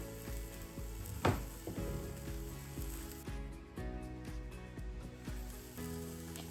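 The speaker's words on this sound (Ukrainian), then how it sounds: "Сирнички смажу на мінімальній кількості кокосової олії." Syrniki, sugar-free cottage cheese pancakes, sizzle and fry quietly in a little coconut oil, a soft continuous crackle with a few scraping stirs and clicks.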